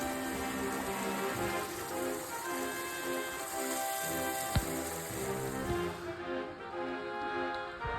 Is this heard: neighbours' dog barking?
no